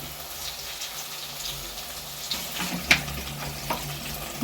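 Drumstick curry with ground paste cooking in coconut oil in a pan, giving a constant low sizzle with scraping stirs and a few sharper crackles and pops toward the end, and nobody talking.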